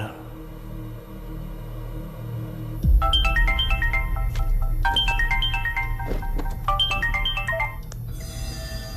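A mobile phone ringtone for an incoming call in a Bollywood horror film scene plays a bright repeating melody several times over a low rumbling background.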